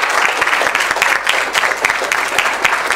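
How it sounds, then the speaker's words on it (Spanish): Audience at a municipal music school event breaks into brisk, dense applause, many hands clapping close together in a lively, even patter that runs through the moment without any speech over it. "primero le voy a pedir un aplauso"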